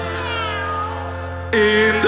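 Cats in a garden give loud, close, drawn-out meows: one long wavering cry, then a sharper, brighter yowl that breaks off and starts again.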